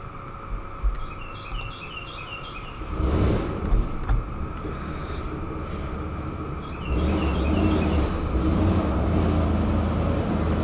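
An old car drives up a residential driveway, its engine rumble swelling in two pushes as it moves, while birds chirp and tweet nearby.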